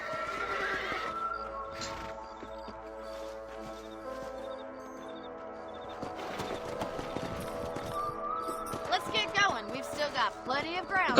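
Horse whinnying with clip-clopping hooves in the Red Dead Redemption video game, mixed with in-game music and ambience, the hooves thickening into a busier clatter toward the end.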